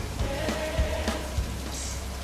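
Rain in the Bus Simulator Indonesia game at night, a soft, continuous patter with a few faint low thumps underneath.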